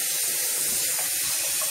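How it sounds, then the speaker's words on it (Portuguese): Water runs in a thin stream from a sink tap in an apartment, a soft, continuous hiss heard close and fairly quiet, with no voices. "Deixa eu ver se sai água aqui."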